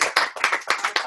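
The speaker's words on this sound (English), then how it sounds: "again, a round of applause for our top producers" A small group at a team meeting claps for its top sales producers, about seven sharp, evenly spaced claps in just over a second, close and dry, with no voices.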